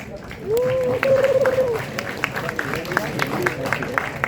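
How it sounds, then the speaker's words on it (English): A class claps and cheers in a short burst of applause while a voice talks over it, the clapping dense at first and then thinning out. "give yourself a big applause"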